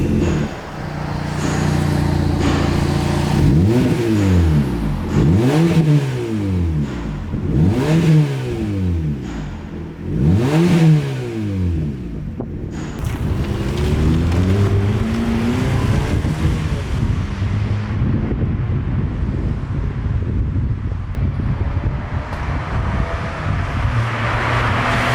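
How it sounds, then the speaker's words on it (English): A Fiat Punto with a custom cat-back exhaust revs in four sharp rising-and-falling bursts, then pulls away and drives off, the exhaust droning through gear changes before settling into a steady cruising rumble with road noise. "now we're going to take it out for a quick rip and see what it sounds like"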